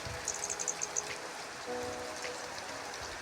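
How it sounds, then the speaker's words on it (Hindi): Raindrops patter softly and steadily in strong wind during the new year's first rain with snowfall, a faint, even wash with no voices. "बारिश की जो बूंदें हो रही है वो भी बारिश की बूंदें गिर रही है"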